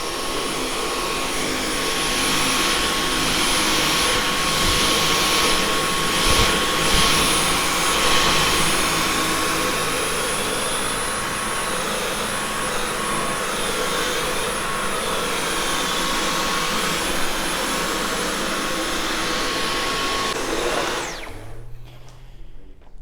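A Dyson V11 Origin cordless vacuum cleaner runs continuously with a loud, steady high-pitched whooshing whine, close by and unbroken for about twenty seconds before it switches off near the end.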